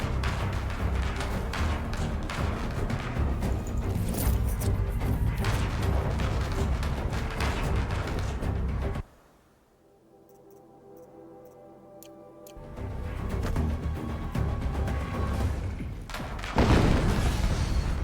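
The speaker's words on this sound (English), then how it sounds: "Another explosion." Explosion in the video game Horizon Zero Dawn: a loud, dense burst of game noise cuts off into near silence for a few seconds, then swells back with a heavy boom near the end.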